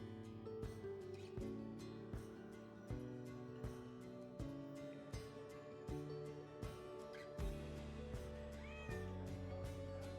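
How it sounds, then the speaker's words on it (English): A cat meowing on a London street, repeated meows under steady background music. "I heard a meow"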